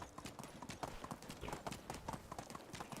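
Horse hooves clip-clopping steadily while riding in the Medieval Dynasty video game, a quick regular trot, fairly close, with a faint background voice.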